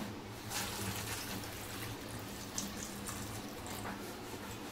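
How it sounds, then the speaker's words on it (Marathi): Water pours into a pan holding five or six potatoes set on a lit gas stove for boiling, a soft, steady splashing stream that runs for several seconds at low volume with no talking. "त्यामध्ये पाणी घालूया"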